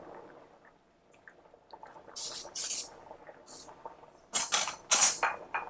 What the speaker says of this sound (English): Let me give the pasta a stir.